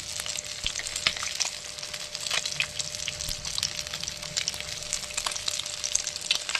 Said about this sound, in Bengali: কত সুন্দর মাছ ভাজা হচ্ছে